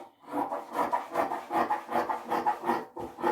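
Scissors cutting fabric for a semi-circle flare dress along the seam allowance line, a steady run of close rasping snips repeating about every third of a second, heard alone with no talk.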